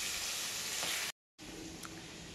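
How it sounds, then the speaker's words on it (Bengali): Chicken pieces fry with onions in a pan for a chicken curry, a steady loud sizzle broken by a brief moment of silence before the sizzling resumes. "কিছুক্ষণ ভাজা হোক, তারপর নুন দিই।"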